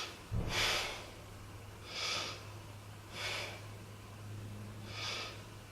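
Four slow, deep breaths during a beginner yoga back-strengthening pose, each a soft airy inhale-exhale swell with pauses between, close and fairly quiet over a steady low hum, with no talking.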